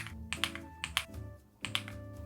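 Short clusters of crisp key clicks from a computer keyboard, as shortcut combinations are pressed, come in three quick bursts with brief pauses between, close and fairly quiet over a faint steady background.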